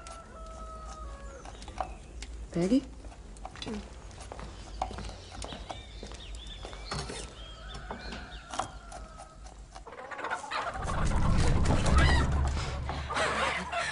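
Chickens cluck and a rooster crows in a Brazilian fight film scene, with scattered calls and bumps, a brief spoken word, and a louder rustling commotion building near the end.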